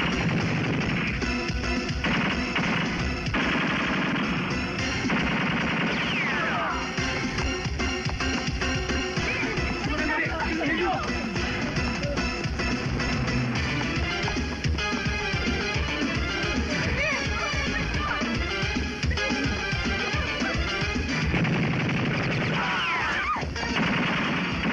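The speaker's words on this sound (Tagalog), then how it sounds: "Nagmumula ang putok sa likod ng filing cabinet." Gunfire fills an action movie scene, with dense overlapping bursts of shots, rapid automatic fire and crashing impacts that continue almost without pause, loud and layered over a busy soundtrack.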